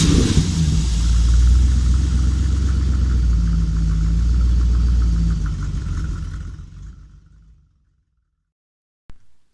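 A Dodge V8 engine with a loose baffle in its exhaust silencer rumbles steadily close by, then dies away into silence before a brief knock at the end.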